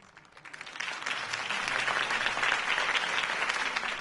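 A video game crowd bursts into applause after a speech, swelling quickly from a few claps into sustained, steady clapping that stays loud to the end.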